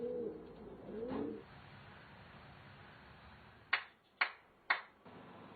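Racing pigeons in a loft in Taiwan give a low, murmuring coo at the start, followed by quiet ambience and three sharp, separate clicks or taps near the end.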